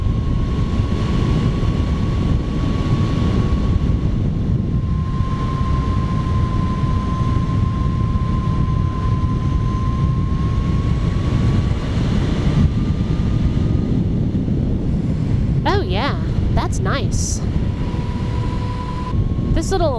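A 2018 Zero SR electric motorcycle fitted with a charge tank leans through corners. A thin, steady motor whine runs under heavy wind rush, with a few brief higher chirps near the end.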